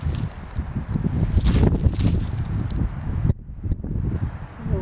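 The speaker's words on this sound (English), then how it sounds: "The wind's really taking them today." Gusting wind buffeting a yard full of daffodils in March, rough rumbling bursts close to the microphone with rustling, dropping out briefly before returning.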